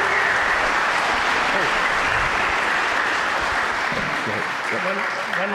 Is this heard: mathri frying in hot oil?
no